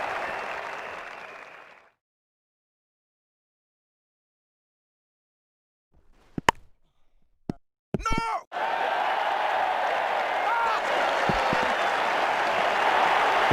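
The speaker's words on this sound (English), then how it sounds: "The crowd appreciate the importance of this knock and are giving him a good round of applause." Applause from a cricket crowd at a Test match between India and Australia, breaking out loudly after a long silence and a few sharp knocks, then holding as a steady, dense round of clapping.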